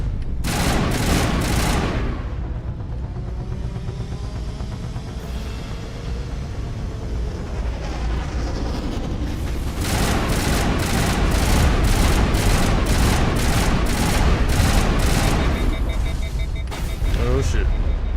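Rapid bursts of video game gunfire crackle through a busy, loud soundscape, with a dense rattling stretch in the second half under a player's talk.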